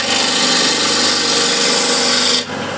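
Wood lathe turning a bowl at about 1400 RPM while a spindle gouge trues up the bottom, a loud continuous scraping whir close by that stops suddenly near the end.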